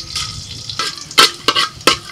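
Bay leaf, cardamom, cinnamon and cloves drop into hot oil and ghee, giving sharp, irregular crackles and bursts of sizzle that sound close up, with no talk.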